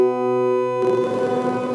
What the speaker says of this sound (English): We also have an echo delay,